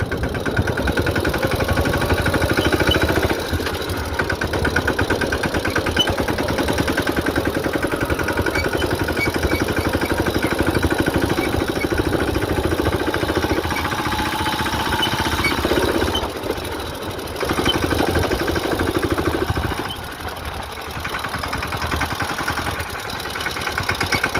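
A tractor engine runs steadily at a village farm during sowing, a loud, close, rough diesel chug with a rattling, knocking texture that dips briefly a few times before resuming its even drone.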